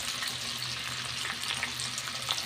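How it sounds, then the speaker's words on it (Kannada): Corn kernels frying in hot oil, a dense continuous crackling sizzle, close and steady, with no voices. "ಎಣ್ಣೆ ಕಾದಿದೆ. ಇದಕ್ಕೆಲ್ಲ ಕಾರ್ನ ಹಾಕ್ಕೊತಾ ಇದ್ದೀನಿ."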